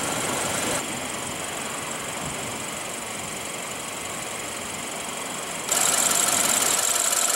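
A 2016 BMW 328i's 2.0-liter turbo inline four-cylinder runs at a steady idle with an even mechanical hum, heard close under the hood, and it grows louder and brighter near the end.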